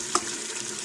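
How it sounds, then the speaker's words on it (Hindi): Goat or lamb trotters fry in oil in a pot, giving a steady, close hiss of sizzling with one brief clink near the start and no talk. "ऑयल डाल के अब मैं इसको अच्छे तरीके से भून लूँगी 15-20 मिनट।"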